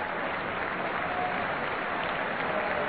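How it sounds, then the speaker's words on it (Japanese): Warm applause fills the arena for Naoya Ogawa after his win at the 1990 All Japan Judo Championships, a constant, even roar of clapping from a large crowd with a slightly muffled broadcast tone. "そしてまた小川に対する温かい拍手もこの館内いっぱい含まれています"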